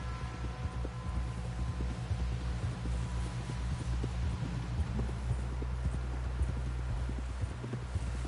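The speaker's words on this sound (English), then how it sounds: "Someone help John down off this horse." Steady clip-clop of horse hooves at a trot in Red Dead Redemption 2, over a low rumbling background, rhythmic and fairly close.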